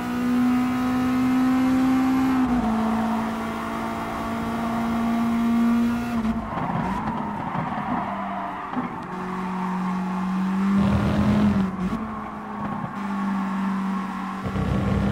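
Race car engine in the video game Gran Turismo Sport, an FIA GT nations race, droning steadily with pitch shifting through gear changes, loud and continuous, and easing off for braking before revving back up.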